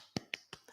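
Fingers tapping on the body during a yoga session, three or four soft, evenly spaced taps, quiet and close, with no one talking.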